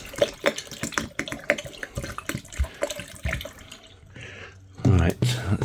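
Plain water is poured into the coolant reservoir of a Mk3 VW Golf, making an uneven splashing and gurgling pour with clattery handling noises.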